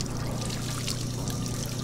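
Water being poured, a steady, dense rushing stream that holds constant for the whole short moment, close and fairly loud, with no voices over it.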